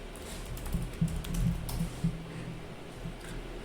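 Soft, quick keystrokes on a Mac keyboard as a password is entered, a short irregular run of close, light taps with no talking.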